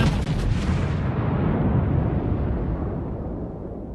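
The Scharnhorst's heavy naval guns fire shells in a naval warfare video game: a loud booming salvo with a crackling roar that slowly fades over several seconds.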